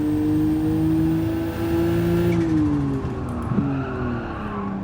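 Nissan NISMO R34 GT-R Z-tune '05 in Gran Turismo 7, a loud steady engine drone with a tire squeal as the wheels lock up under braking, then the revs drop and the engine note shifts.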